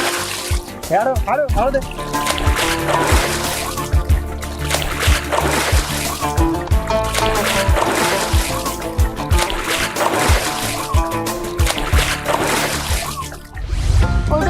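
Water splashes loudly and repeatedly as someone is dunked over and over in cold winter water, rhythmic heavy sloshing close by, buried under excited shouting and chanting from several voices.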